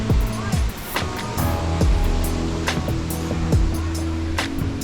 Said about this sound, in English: we have a little cascade of a waterfall.